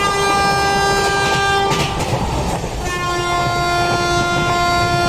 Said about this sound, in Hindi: टू लॉन्ग किंग के साथ पीछे से आ रही है हमारी 2-2-2-2-3 मुंबई से SMT साईनगर शिरडी वंदे भारत एक्सप्रेस।